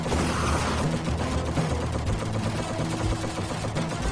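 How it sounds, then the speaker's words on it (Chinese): Bombs dropped by a flying enemy explode in the video game Hell Hero, a dense, continuous barrage of rapid blasts and crackling bursts with no speech. "它是扔了很多的炸弹"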